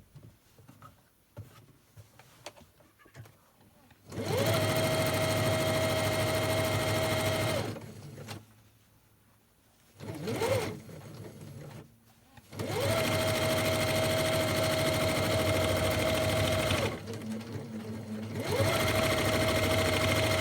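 A home sewing machine stitches down the edge of a fabric lunch bag in two long, close, buzzing runs with a whining motor tone. Brief pauses and faint handling noises fall between them.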